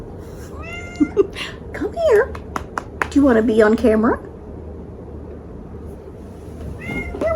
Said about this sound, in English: there's my kitty talking